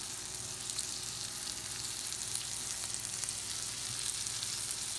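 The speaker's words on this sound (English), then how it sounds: "So here in our pan, still have some butter. We're going to add our bear steaks." Thin bear steaks frying in butter in a pan, a steady dense sizzle that holds evenly throughout, close and fairly quiet.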